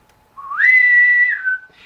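A person whistles a single rising then sliding tone, about a second and a half long, clear and close, imitating the snappy menu-opening sound of a Nokia E75 phone.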